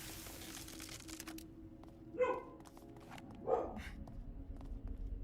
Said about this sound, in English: Sorry if you just heard my dog barking.